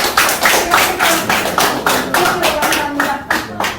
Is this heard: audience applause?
yes